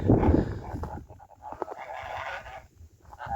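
A small flock of domestic geese calls on a farm in winter, a burst of loud honking up close at the start, followed by scattered calls and softer cackling.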